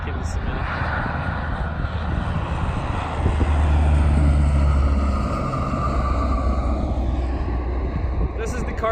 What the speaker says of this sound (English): I got a plane coming in,